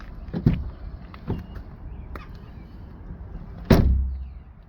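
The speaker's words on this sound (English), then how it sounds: "You open the door." A car door clicks and thuds open nearby with a sharp latch sound, after a few lighter clunks and rustles against a steady background hum.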